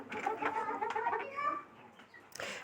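White chickens kept in an apartment cluck and murmur in short, soft bursts close by, a few low calls overlapping before a brief pause and a final rustle.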